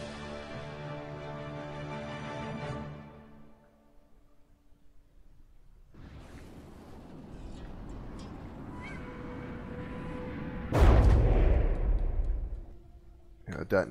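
A missile strike detonates in a video game battle: after a stretch of low rumbling and tones, a sudden loud, deep blast bursts out near the end and then decays, with voices present.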